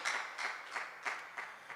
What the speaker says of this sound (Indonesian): Mari kasih tepuk tangan buat Tuhan Allah kita yang dahsyat.